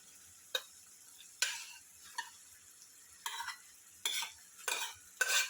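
Boiled whole masoor lentils tipped into a pan and stirred for a semi-dry dal, giving a string of separate scraping, sloshing stirs with a light sizzle beneath, fairly quiet and close.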